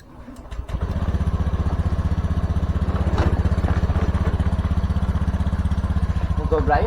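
A Honda Beat scooter engine starts and settles into a steady close putter, a continuous rhythmic idle lasting several seconds, with faint clatter on top and some brief handling noise near the end.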